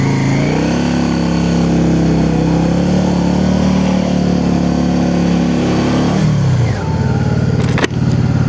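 A motorcycle engine on Hardknott Pass holds a steady, close, droning rev, then drops in pitch and eases off, with a sharp click near the end.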